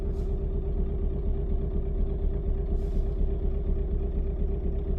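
A cold Volkswagen TDI diesel engine idles roughly and not on all cylinders, with a steady, loud, close shaking knock. Two brief hissing bursts rise above it.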